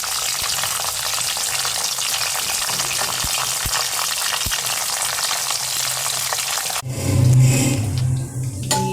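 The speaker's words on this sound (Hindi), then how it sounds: "इस तरह ऑयल डालकर भिंडियाँ फ्राई करनी है, हल्की फ्राई करनी है, ज़्यादा नहीं" Okra pieces shallow fry in oil with a pinch of kalonji seeds, giving a loud, unbroken crackling sizzle up close. Near the end there is a brief shuffle as the pan is stirred.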